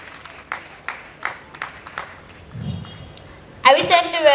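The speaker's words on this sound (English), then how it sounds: "A round of applause for them," At a Nigerian college student debate on state police, scattered handclaps ring out in a quick, sparse run, then a loud voice starts speaking near the end.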